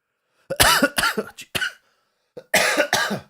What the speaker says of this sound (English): The worst thing about this cough is I don't even feel it coming when it happens.